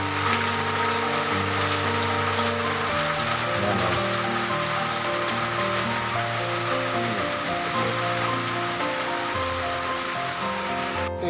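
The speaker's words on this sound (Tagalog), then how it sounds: "magdamag ang ulan mula kagabi." Heavy rain after an all-night downpour pours down steadily and loudly, a dense, unbroken hiss of drops on surfaces from start to finish, with no voices.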